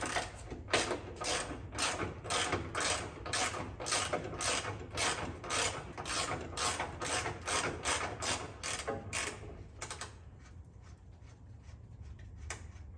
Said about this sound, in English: now we can get the pan hard bar out of the way. 21 millimeter wrench.